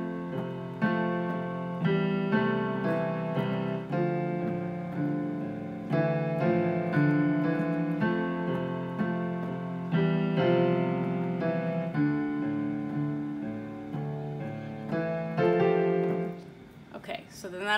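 Piano plays the introduction to 'Simple Man' with both hands, a steady flow of full chords and melody notes, clear and close and without talk until a brief noise at the end.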